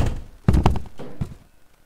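A door lock is placed on a door in the game Baldi's Basics Plus, giving a couple of close, dull thunks and knocks in quick succession, short and moderately loud.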